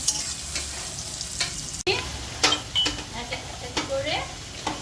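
Chopped onion frying toward light brown for nihari, with a constant, close oil sizzle broken by intermittent spatula scrapes and stirs against the pan.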